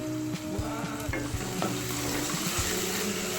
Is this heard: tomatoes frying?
yes